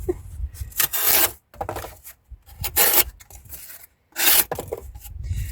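A trailing point knife blade slicing through a piece of cardboard, giving several short, close rasping cuts separated by brief silent pauses, each stroke loud and scratchy.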